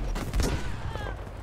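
A rocket is launched in Battlefield V with a sharp, loud blast and whoosh amid ongoing battlefield rumble and scattered gunfire, all close and dense.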